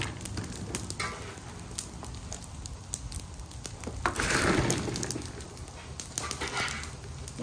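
Pork cracklins fry over an outdoor wood fire, giving a continuous crackling sizzle peppered with sharp pops, with one louder surge of hissing midway.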